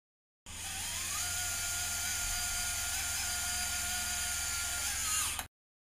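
A power tool drives a 5.0 mm monocortical locking screw into the femur during a distal femoral osteotomy, a steady high-pitched whine with a rising pitch shift, continuous for about five seconds and then cutting off abruptly.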